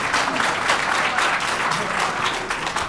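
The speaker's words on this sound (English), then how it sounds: "I know it's really great to applaud people for what they've said." Audience applause at a public meeting on an open space, a steady dense clapping from a crowd that holds evenly for a few seconds with no speech over it.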